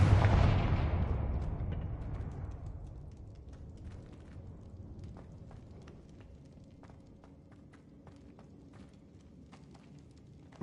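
Confringo fire spell in the Hogwarts Legacy video game: a loud blast at the start rumbles and fades over several seconds, followed by scattered faint ticks and clicks over a quiet game background.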